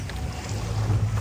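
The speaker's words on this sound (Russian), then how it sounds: "Ну вот на таких лодках мы поедем." A speedboat on the water off Ko Lipe, Thailand, heard as a steady low engine drone with wash and wind rumble, close and continuous with no talking.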